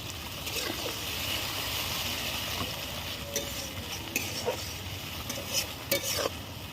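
Water added to fried spices in a pan for potol dorma sizzles steadily while a utensil scrapes and clinks against the pan in irregular stirring strokes, close by.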